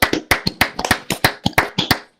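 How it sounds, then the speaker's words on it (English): Sharp claps ring out in an irregular burst, about a dozen hand claps over two seconds, close and fairly loud with no talking, in a racing video game. "Round of applause, maybe."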